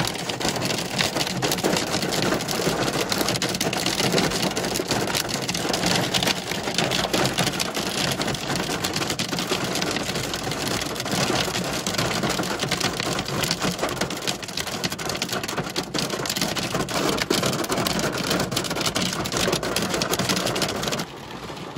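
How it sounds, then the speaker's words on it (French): Hail and rain pounding down during a thunderstorm in May, a steady, dense, loud hiss and patter of impacts that continues unbroken, with no voices. "la grêle c'est terminé"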